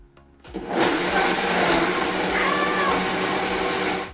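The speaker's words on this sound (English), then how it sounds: "Then you turn it on." A kitchen blender switches on with a sudden jump into a loud, steady whirring whine that holds evenly to the end, close to the listener, with no talk over it.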